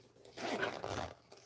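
A zipper on the pocket of a fabric bag is pulled in one short, close rasping stroke, quiet and alone, lasting under a second.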